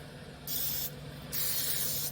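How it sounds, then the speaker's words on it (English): Cooking spray hisses onto a pellet grill rack in two steady bursts, the second longer, over a low background hum. "I'm going to get some cooking spray"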